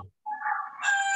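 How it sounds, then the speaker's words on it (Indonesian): A rooster crows once, a clear rising cock-a-doodle-doo at moderate distance, following a short gap of silence during an indoor church service, with no speech over it. "ada ayam Petrus berbunyi ya"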